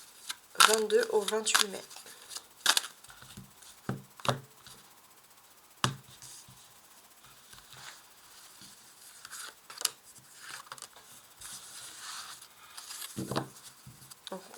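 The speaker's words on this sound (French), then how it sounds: "elles tombent les cartes" Tarot cards are dealt and slap onto a table in a scattered series of sharp, close flicks and taps, with someone speaking French over and between them.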